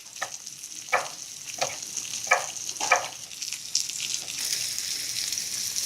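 Potato frico with chopped Tuscan peperoncino sizzling and frying in a pan, a steady hiss broken by several crackling bursts, close and clear with no talking.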